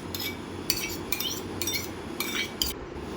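A metal spoon stirs thick homemade yogurt with sugar and salt in a small bowl, making six or so short, rhythmic scraping and clinking bursts against the dish, close and fairly quiet, with no talking.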